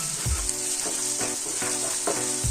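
Chopped onions with salt fry for boiled egg burji, a loud continuous sizzle in a pan punctuated by regular stirring scrapes roughly every half second, with no talking.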